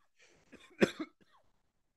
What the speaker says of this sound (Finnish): Anteeksi, yskäisyni